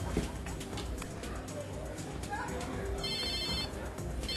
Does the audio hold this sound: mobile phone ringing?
yes